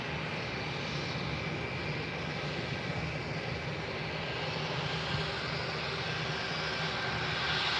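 Airliners at Faro Airport in Portugal, heard early in the morning as a continuous broad engine roar that holds steady throughout without any breaks, loud and fairly close with no voices over it.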